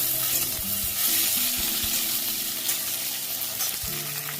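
Chopped tomato dropped into hot oil in a pan for a prawn and jackfruit curry, a loud, close, continuous sizzle with scraping and stirring clatter throughout.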